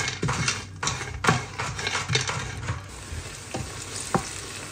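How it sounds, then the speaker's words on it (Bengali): Dried fish sizzle in oil on a pan, with a steady crackling fry broken by bursts of stirring and scraping. The sound is close and fairly loud, and no one speaks. "তার আগে একটু শুকনো তাওয়ায় তেলে নিচ্ছি।"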